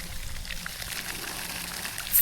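Water lapping and trickling against a gap in rock, a steady soft wash with low rumbling movement throughout, fairly quiet and close.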